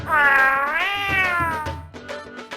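A cat lets out one loud, close, drawn-out meow that rises and then slides down, followed by a few faint clicks and rustles.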